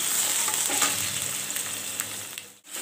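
Ginger and garlic paste fry with spices in a pan with a bright, steady sizzle, close and fairly loud, with a few soft stirring scrapes before the sound briefly cuts out near the end.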